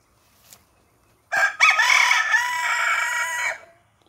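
A rooster crows once, loud and close, a long drawn-out call after a brief faint sound, in an outdoor scrapyard sculpture setting.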